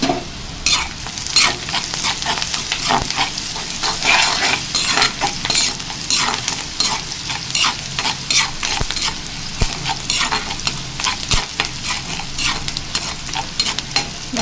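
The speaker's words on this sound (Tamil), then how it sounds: "வெங்காயம் நல்லா வதங்கட்டும்." Onions sauté in a hot pan for pepper crab fry, a constant close sizzle broken by frequent sharp scraping stirs of a spoon against the pan, with no talking.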